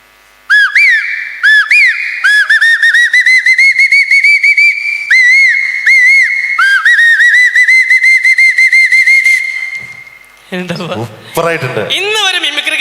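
A man whistles an imitation of early morning birdsong, with rapid rising and falling trills repeated in quick bursts. It is loud and close, and a bit of chuckling and noisy vocal sounds follow at the end.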